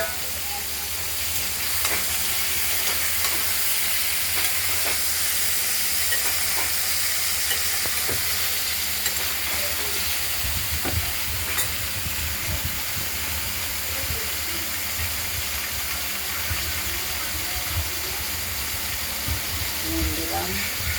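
Ridge gourd frying in hot oil in a wok: a dense, continuous sizzle and hiss with occasional stirring scrapes, close and fairly loud, with faint speech beneath.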